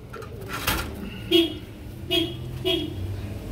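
Pigeons at a bird market give a few soft, low coos, spaced irregularly and fairly near, mixed with light background murmur.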